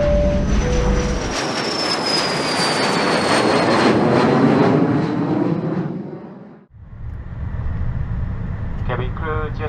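A Singapore Airlines Airbus A380 rolls for takeoff at Sydney Airport, with a steady loud roar of jet engines building and sustained, heard from inside the cabin, followed by a lull and a voice speaking over a quieter engine hum.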